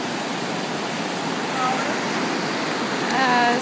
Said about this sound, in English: Some might call this rapids.